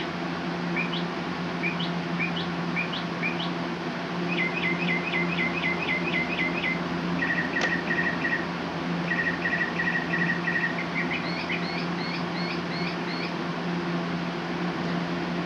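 Unidentified songbird repeating short, bright chirping phrases in clear series, fairly close and distinct, over a steady low background hum with no talking.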